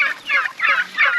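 Young turkeys gobble in quick, rattling bursts, three or four close calls repeating loudly with short gaps between.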